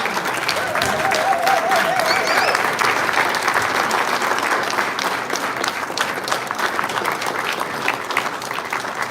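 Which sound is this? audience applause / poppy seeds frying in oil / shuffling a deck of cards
audience applause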